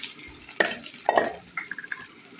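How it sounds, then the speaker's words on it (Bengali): Chilies and onions drop into half a cup of hot oil in a pan, giving short bursts of frying crackle and a few quick stirring clinks, close and alone with no voices. "তারপর আমি এখানে তেল দিয়ে দিলাম হাফ কাপ পরিমাণে, মরিচ পেঁয়াজগুলো দিয়ে দিলাম"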